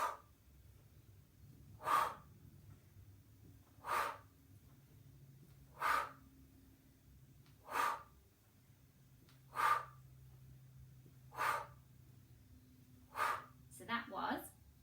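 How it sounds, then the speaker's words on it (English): Eight deep, forceful breaths spaced about two seconds apart during a lower-body workout exercise, each a short, close, airy gust over quiet room hum, with a quicker double breath at the end. "Breathe in."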